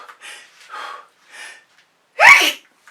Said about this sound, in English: And I may sneeze.